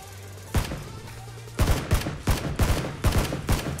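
Gunfire in the video game PlayerUnknown's Battlegrounds: a single loud shot, then a rapid series of about eight sharp, evenly spaced shots, close and punchy over a low background hum.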